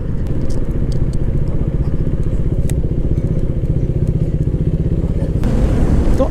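A touring motorcycle idles at a fuel stop on a Ludhiana to Narkanda ride, a loud close, steady pulsing engine chug with light clicks and clatter over it and no talk.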